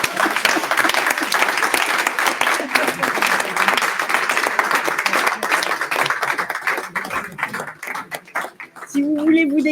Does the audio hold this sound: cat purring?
no